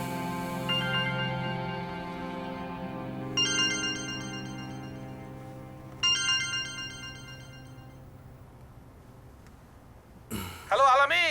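A phone ringtone plays late at night in a melodic repeating electronic pattern, rising in bursts several times before a brief voice sound near the end.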